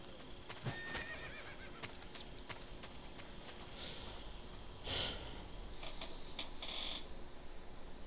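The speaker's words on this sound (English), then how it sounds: "Horse." A horse in Metal Gear Solid 3 whinnies loudly near the start, then snorts and shifts with soft hoof clops and creaks amid a quiet ambient background, with a second fainter neigh later.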